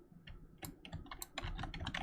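Computer keyboard keys pressed in a quick irregular run of clicks while a Roblox script detects the input, close and clear, with no talking.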